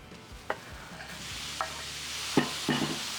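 Steak strips fry in hot oil in a pan for a cowboy breakfast stir fry. A low steady sizzle fills the background, and a handful of sharp stirring clacks sit close by, with no speech.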